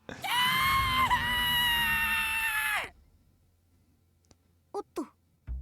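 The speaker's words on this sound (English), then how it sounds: "No longer able to control myself, I let out an ear-splitting scream." A long, loud, ear-splitting scream from a video game holds for nearly three seconds and cuts off abruptly, followed by near-silence broken by a few brief, faint clicks and short sounds.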